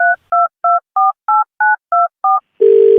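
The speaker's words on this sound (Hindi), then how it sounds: "फोन मिलाओ" A quick series of eight touch-tone beeps as a phone number is dialed, followed by a louder, steady tone starting at the end.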